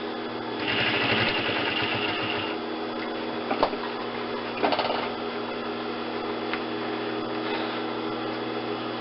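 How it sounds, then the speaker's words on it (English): A sewing machine runs steady top stitching around the three edges of a shirt collar, a quarter inch in, with a continuous mechanical whir broken by a couple of short clicks as the stitching pauses and resumes. "we're going to top stitch this about 1/4 inch from the edge, all the way around the 3 sides you just sewed"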